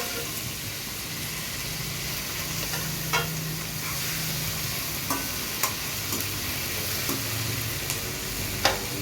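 Steady sizzling from onions and tomatoes frying in a pan, with occasional sharp clicks of a utensil stirring against the pan.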